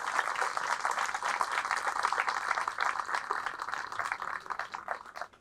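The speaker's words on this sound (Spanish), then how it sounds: "Fuertes aplausos a nuestra Madre Santa," Congregation at a Catholic church service applauding for the Virgin Mary, a steady wash of many hands clapping at moderate, somewhat distant level, sustained without a break and without speech.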